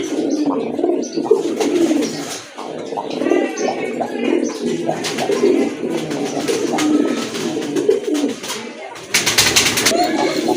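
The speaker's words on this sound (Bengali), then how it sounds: "চমৎকার এক জোড়া কবুতর" A pair of pigeons coos repeatedly up close, soft rolling coos recurring across the whole stretch amid light rustling and a brief burst of noise near the end.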